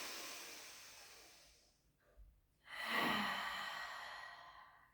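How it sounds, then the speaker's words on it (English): Deep breathing during a Pilates exercise: a long exhale fades out, then after a brief pause a strong close inhale swells and holds steady, with no talking. "let's take a big in breath as we go up."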